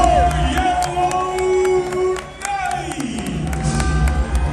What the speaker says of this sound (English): Let us raise a cheer for all our heroes!